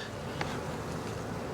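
Honey bees in a side-by-side two-queen hive make a dense, steady buzzing drone close by, continuous and unbroken with no talking.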